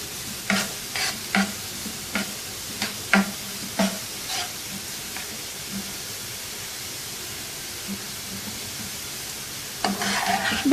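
Carrots sautéing over a high flame for vegetable fried rice: a steady, close sizzle with sharp spatula scrapes and taps in an irregular rhythm, busier at the start and again near the end.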